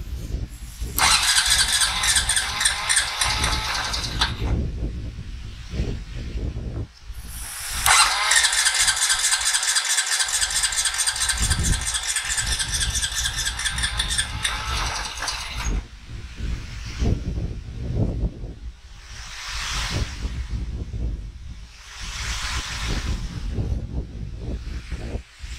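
A 15-year-old Honda ATV engine catches on a kick start and revs in two long, loud, high-pitched bursts, then drops back to a rough, uneven idle with a few more short revs.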